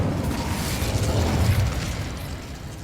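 A fire spell, Incendio, cast in the video game Hogwarts Legacy: a loud, sustained whooshing burst that holds steady for a few seconds before easing slightly, with no talking.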